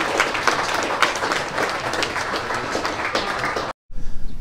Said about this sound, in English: So a round of applause for our great sponsors.